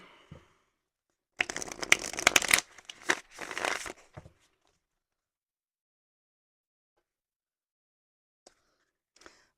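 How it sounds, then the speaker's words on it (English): Tarot cards being shuffled, a dense riffling burst of card flutter for about two seconds followed by a shorter second burst, then near silence with a couple of faint taps. "I want to pull a couple tarot cards real quick."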